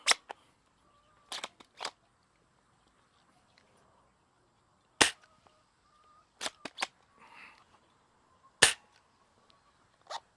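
A 3D-printed Nerf hand cannon fires heavy darts outdoors in a string of sharp, dry snaps, some alone and some in quick pairs, close and crisp against near silence, with no voices.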